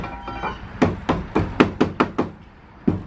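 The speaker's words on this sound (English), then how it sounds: "Yeah, we're gonna use the hammer." Nails are hammered in with a hammer while a new roof is being put up, a series of sharp, close knocks in uneven bursts of several quick strikes with short gaps between them.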